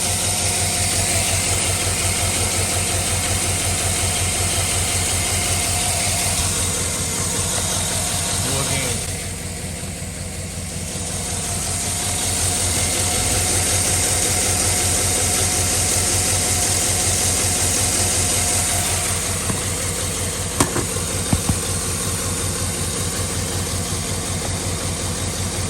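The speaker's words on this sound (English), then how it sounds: "Still misfiring." A Chevy truck engine with an injector circuit fault idles steadily up close, its loud rough drone broken by uneven stumbles from a misfire, while someone talks over it.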